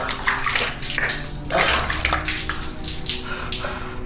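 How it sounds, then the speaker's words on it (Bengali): Water splashes and sloshes in a bathroom as cold water is thrown onto a face, with a running tap underneath and irregular bursts of splashing over about four seconds. "বাথরুমে গিয়ে ঠান্ডা জল মুখে চোখে ছেটালাম।"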